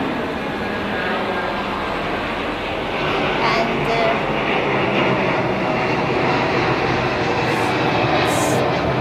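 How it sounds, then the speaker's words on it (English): Passenger planes take off from a nearby airport close to a long cross-sea bridge, a loud, continuous roaring rumble that holds steady for about nine seconds, with faint voices in the background. "hear the noise of some passenger planes taking off from the nearby airport"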